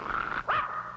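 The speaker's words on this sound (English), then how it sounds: "He's barking at that awful-looking face." A cartoon dog barks at a frightening mask, two short sharp yips close together breaking out over a steady background hum.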